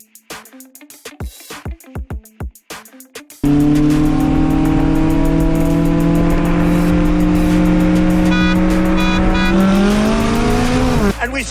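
A McLaren 570 drag races a Corvette ZR1: a few sharp idle blips, then a sudden loud, sustained engine roar climbing steadily through the gears, close and dominating, with tire noise and a brief tone shift near the end.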